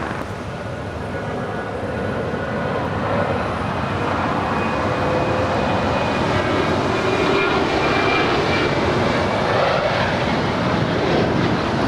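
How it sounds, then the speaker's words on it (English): A Boeing 737-800 departs Los Angeles International Airport, its jet engines roaring loud and steady for the whole stretch with a broad, sustained rumble and no talk over it. "669 departing to Chicago. It's a 737-800."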